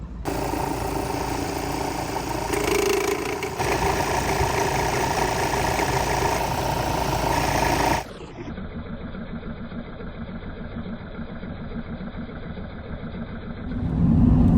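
A van engine idles with a worn, wobbly tensioner pulley, giving a steady knocking rumble that changes character partway through and rises slightly at the end, with no talk.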